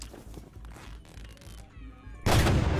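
A robot in the video game Sir You Are Being Hunted fires its big gun, a sudden loud burst of gunfire that ends a stretch of quieter scuffling game noise.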